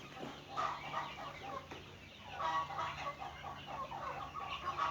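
Caged chickens around three and a half months old cluck and chatter steadily on a farm, many birds calling at once at moderate distance over a low hum of background noise.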